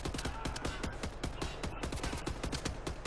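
Rapid bursts of automatic gunfire from a weapon in Wolfenstein: The New Order, sharp repeated shots in a fast steady rhythm, loud and close throughout.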